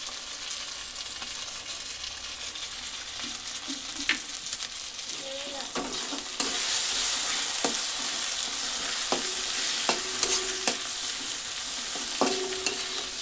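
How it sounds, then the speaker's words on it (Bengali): Egg and rice frying together in a pan, a steady broadband sizzle with scattered clicks and scrapes of a spatula stirring, growing slightly louder partway through, with no voices. "এর মধ্যে ডিম ফাটিয়ে দিয়ে দেবো একটা"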